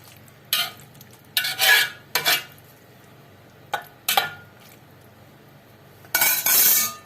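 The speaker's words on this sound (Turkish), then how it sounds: "Çox da qarışdırmırıq çünki badımcanlar əzilir." A pot of eggplant and tomato stew being prepared for winter storage, gently stirred with a spoon in a few separate bursts of scraping and clinking against the pot, close, with quiet pauses between strokes.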